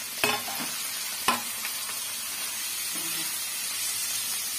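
A wet dried-shrimp (jawla) mixture is stirred in a pan: a continuous hissing fry with two sharp utensil knocks early on and lighter scraping afterward, close and without speech.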